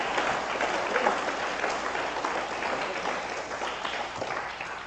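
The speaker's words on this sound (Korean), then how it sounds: "박수 줍니다" A church congregation claps during a worship sermon, a broad, even wash of applause that stays steady and fairly loud for the whole stretch with no talking over it.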